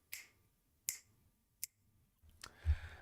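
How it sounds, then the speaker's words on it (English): Four sharp, isolated finger snaps spaced roughly a second apart, close and fairly quiet, the last one slightly blurred, with no talking. "I'll work on snapping my fingers"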